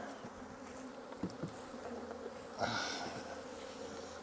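A close, continuous hum of many honey bees with Hawaiian queens buzzing, with a few soft bumps and a brief louder swell partway through.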